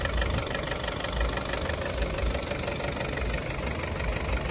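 A Hyundai Sonata (YF) engine idles steadily without shaking, a constant low rumble with a faint ticking texture and no speech.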